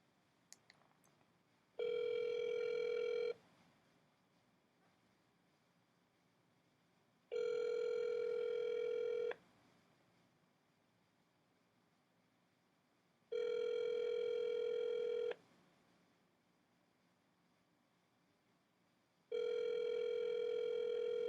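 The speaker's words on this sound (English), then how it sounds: "Bear with me as I dial. Dialing complete." A telephone line gives four steady electronic tones, each about two seconds long and spaced several seconds apart, clear and alone on an otherwise quiet call.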